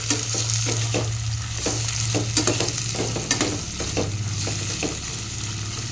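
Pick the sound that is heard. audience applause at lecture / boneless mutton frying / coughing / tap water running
boneless mutton frying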